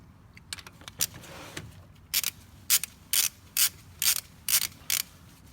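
Ratchet wrench snugging the bolts on an EGR block-off plate on a Duramax LML diesel, a string of about eight short, crisp clicking bursts at close range, spaced roughly half a second apart, with no talking.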